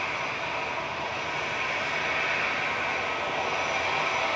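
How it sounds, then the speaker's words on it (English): An EasyJet airliner's engines roar continuously at Manchester Airport, a loud, steady broadband jet rumble with a hissing whine that fills the whole stretch and drowns out everything else, with no talk audible. "I wish this EasyJet would go. Exactly, because I can't hear a word you're saying."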